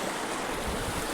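Roaring waterfall where the water pours down and flows on, a steady broadband rush of churning water filling the whole moment, close and continuous with no voices.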